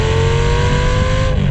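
A 2004 Lamborghini Gallardo with a 5-liter V10 and dual exhaust pipes revs loudly and close up, a steady sustained engine roar with strong low rumble and a harmonic whine held for the whole burst.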